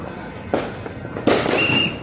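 New Year firecrackers going off in two loud bursts, each followed by crackling and hiss, with a thin whistling tone in the second burst and a constant background din.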